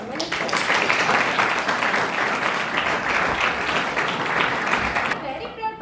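Sustained applause from a school audience greeting a guest speaker, dense steady clapping filling the room for about five seconds before cutting off, with a voice beginning to speak at the end.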